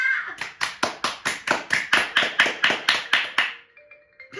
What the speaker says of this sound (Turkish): Çok alkışladık.